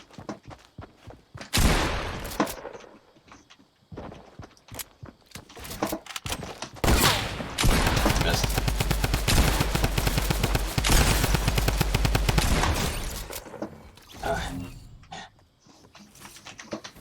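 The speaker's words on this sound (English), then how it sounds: "Drum gun." Drum gun from Fortnite firing in long rapid automatic bursts, loud and close, with a sustained stream of shots in the middle, surrounded by scattered shorter gunfire and footstep-like clatter.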